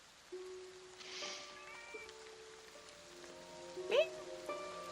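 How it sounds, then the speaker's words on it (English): A single short meow rises out of a quiet room with faint background noise and scattered soft sounds. "I heard a meow."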